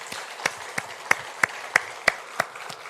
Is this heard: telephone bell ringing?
no